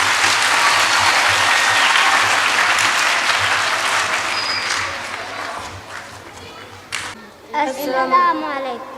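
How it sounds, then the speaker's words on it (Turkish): Loud, dense audience applause at a graduation ceremony, sustained for several seconds before fading, with children's voices and a speaking voice rising as it dies down. "Yavrulara yakışan güçlü alkışlarınızla efendim."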